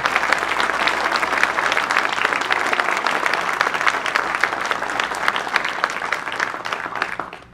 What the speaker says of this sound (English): So can we give Katie a round of applause?